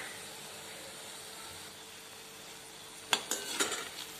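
Onion bhaji fritters deep fry in hot oil with a steady, soft bubbling hiss, then a short burst of metal ladle clinks and scrapes near the end.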